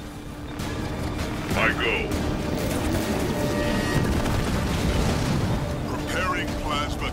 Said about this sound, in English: They're bombarding your base.